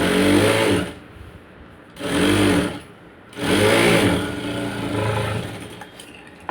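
A sewing machine stitches a sleeve lining with a half-inch seam, running in close, steady whirring bursts separated by short pauses.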